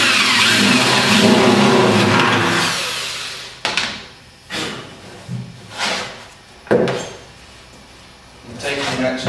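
Drill boring a hole in a nose cone, a rising whir for the first few seconds followed by short bursts, with talking in between.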